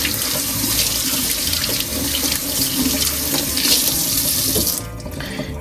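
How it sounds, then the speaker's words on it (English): Tap water runs steadily into a sink while the parts of a Keurig My K-Cup reusable coffee pod, including its mesh filter, are rinsed under it, a loud close rushing stream that thins out near the end. "you just rinse it out there. A little rinse also with this part."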